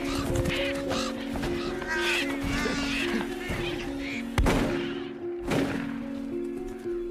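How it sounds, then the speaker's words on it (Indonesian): A flock of birds attacks during a film scene, harsh honking caws and squawks overlapping in a busy clamor, broken by a few loud, sharp impacts over a steady droning tone. "Burung lainnya pun berdatangan dan mulai menyerang."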